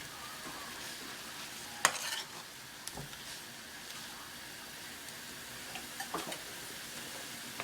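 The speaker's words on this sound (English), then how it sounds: "and now we stir it." Haitian vegetable stew (legume) stirred in a pot after deglazing with marinade: quiet scraping and stirring over a soft background hiss, with a sharper clink near the start and a few faint knocks later.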